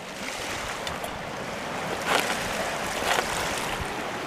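High, choppy river water with wave action at a cold, windy gold panning spot, a steady broadband wash with a couple of louder surges, no talking.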